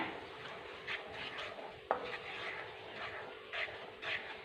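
A spoon stirs a tomato mixture in a pan just after salt goes in, giving soft, uneven scraping and rubbing strokes that stay faint, with one sharper scrape near the middle.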